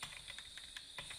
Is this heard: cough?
no